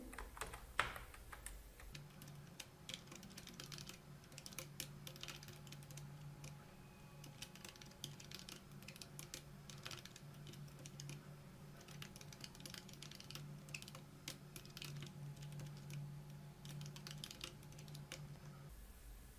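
Steady, continuous typing of C code on a computer keyboard: rapid, close, soft key clicks over a low background hum, with no voices.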